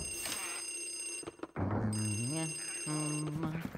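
Telephone ringing in the Luigi's Mansion video game, a steady high-pitched electronic ring that carries across the clip with a brief break partway through, under a layer of game music.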